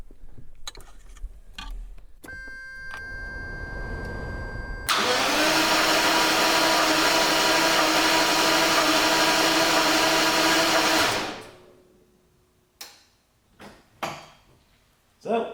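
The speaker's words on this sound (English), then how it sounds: "try cranking the car, and make sure that it doesn't run" A 1989 Jaguar V12 cranks without firing, a loud steady starter whir lasting about six seconds after a few clicks and hum, then stopping abruptly, followed by scattered handling knocks.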